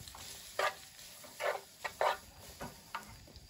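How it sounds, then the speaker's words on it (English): Spaghetti noodles for carbonara go into a hot pan: a quiet frying background broken by several short bursts of sizzle and stirring at irregular intervals, close and with no talking. "our cooking pan is hot again. So let's put our noodles in there."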